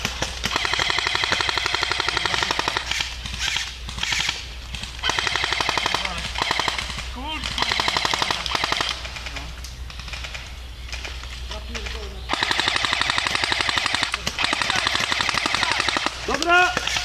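Automatic gunfire in long rapid bursts, loud and close, separated by short pauses, with shouting voices heard between and under the shots.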